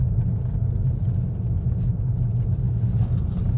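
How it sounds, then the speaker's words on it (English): An old stock car with worn front lower arms rumbles through the body, a steady loud low drone with uneven knocks, no voices. "you can just hear a rumbling through the car"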